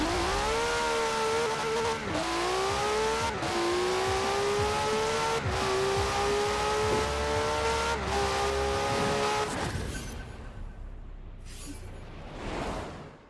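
A 2019 Hennessey VelociRaptor 6X6 pickup launches in a drag race in Forza Horizon 4, its engine revving hard through repeated upshifts with rising pitch, then cutting off near the end into wind and tire noise.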